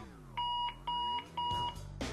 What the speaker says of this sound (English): unique 113 decibel extra loud alarm with adjustable tone and volume control